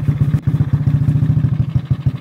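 A homemade motorbike engine runs close and loud in Ghana, a steady rapid thumping putter with an even rhythm throughout.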